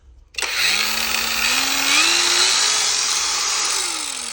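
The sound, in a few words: cordless angle grinder running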